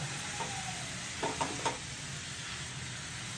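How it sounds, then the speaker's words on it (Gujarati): Washed spinach added to a simmering moong dal gravy, stirred with a few soft scrapes and taps over a low, steady sizzle. "હવે આમાં પાલક નાખો. પાલક ધોઈ અને કોરી કરી અને એને હલાવો."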